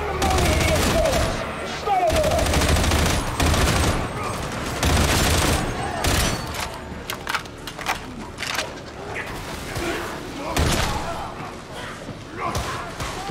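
Gunfire in a video game, a loud run of close shots and impacts mixed with game effects, heard under ongoing talk from a player.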